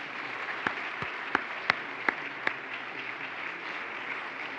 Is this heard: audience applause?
yes